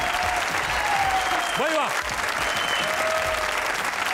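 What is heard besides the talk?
studio audience applause for a guest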